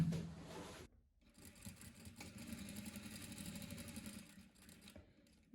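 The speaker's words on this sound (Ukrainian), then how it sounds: "Якщо промислова машинка, спокійно можна один раз, другий раз підвернули і прокладаємо строчку" An industrial sewing machine runs a steady, close whirring line of stitches along a folded seam in bed linen, starting after a brief pause and continuing evenly to the end with no talking.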